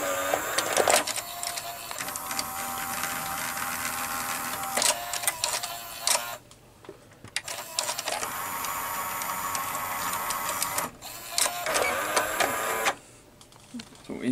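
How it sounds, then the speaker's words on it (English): A 1984 Toshiba V-M42C Beta VCR threads its tape, heard from the back of the machine. The mechanism gives a steady, close mechanical whir and chatter that drops out briefly twice before resuming. "So here's the tape loading from the backside,"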